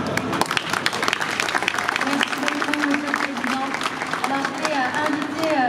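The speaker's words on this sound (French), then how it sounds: "je crois qu'on peut aussi les applaudir bien" An audience at the centenary Dijon fair applauds the jury with lively, fairly close clapping mixed with crowd murmur, while a voice speaks over part of it.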